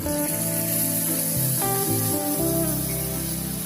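Spice paste hitting hot ghee in a pan for Bengali chana dal, a loud continuous sizzle and hiss with some clinking and stirring, steady from start to finish with no talking.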